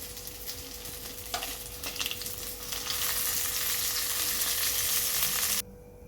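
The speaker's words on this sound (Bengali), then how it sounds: "মাছগুলোকে আমি উল্টে পাল্টে ভালো করে ভাজা করে তুলে নিলাম" Oil sizzling in a pan with fish frying, a few stirring clatters early on, the sizzle growing louder before cutting off abruptly.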